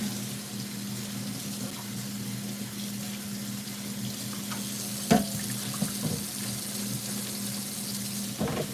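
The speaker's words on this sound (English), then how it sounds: "So I'm washing out my metal bowl really good." Water runs steadily from a kitchen tap into a sink of bleach-treated dishwater as a metal bowl is washed, a constant close hiss with a couple of sharp metallic knocks near the end and no talking.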